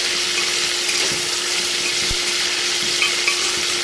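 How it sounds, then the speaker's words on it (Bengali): Beans, potato and carrot frying with panch phoron for vegetable khichuri, a steady close sizzle with a few soft knocks of a spoon, no voices. "সবজিটাকে একটু ভেজে নেব পাঁচফোড়ন দিয়ে"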